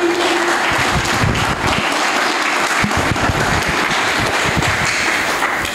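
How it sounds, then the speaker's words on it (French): A crowd at a book dedication ceremony bursts into sustained applause, loud, dense and steady throughout. "Des applaudissements, s'il vous plaît."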